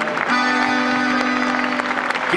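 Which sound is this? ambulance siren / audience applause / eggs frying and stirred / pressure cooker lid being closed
audience applause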